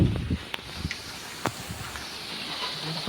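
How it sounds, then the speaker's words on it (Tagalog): Strong rainy-season wind gusting around garden plants, a steady broad hiss with rustling and a few brief low buffeting thumps near the start. "Lakas talaga ng hangin,"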